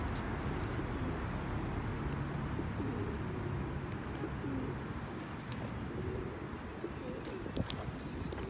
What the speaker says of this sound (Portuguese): Aqui tem pombo com força, hein? Eles tomaram conta da praça.